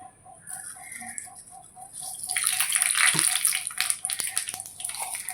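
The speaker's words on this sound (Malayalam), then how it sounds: "ഇനി വെളിച്ചെണ്ണ ഒന്ന് ചൂടായി വരുമ്പോൾ നമുക്ക് കുറച്ച് കടകിട്ട് കൊടുക്കാം" Mustard seeds crackle and sizzle in hot coconut oil in a pan, a dense bright hiss building after a quiet start with scattered sharp pops and faint ticking, no talk over it.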